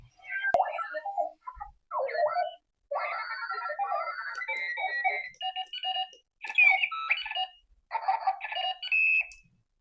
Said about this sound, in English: As you can see, the alarm is so loud, it's hard to ignore.